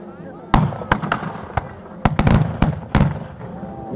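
Musket volleys in a reenactment of the Battle of Berestechko, Cossack infantry firing to halt an advancing enemy attack: a dozen sharp, loud cracks at irregular intervals, some doubled in quick bursts, over a low rumble of narration.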